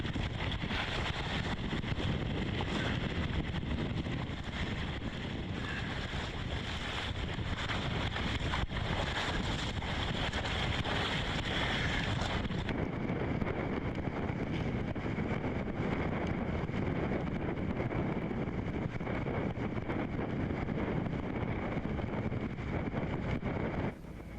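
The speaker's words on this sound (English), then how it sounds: "A little bit of wind today." Wind blowing outdoors on the water, a constant loud rushing buffet across the microphone that carries on without a break for the whole stretch.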